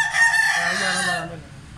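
An Aseel rooster of the Mianwali breed, about a year old, crows once up close, a loud drawn-out call that trails off into quiet.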